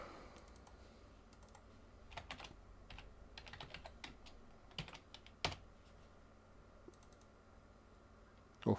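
Typing on a computer keyboard during software tutorial work, scattered soft key clicks in irregular bursts close by, ending on a sharper keystroke.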